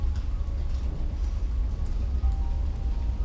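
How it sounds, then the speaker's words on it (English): Steady rain patters against window glass during a storm, a soft continuous hiss of drops with low rumbling underneath, even and unbroken throughout with no voices. "The raindrops create a soothing rhythm as they tap against the glass"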